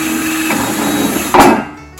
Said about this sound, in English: I'm taking my wireless Bluetooth drill with a metal bit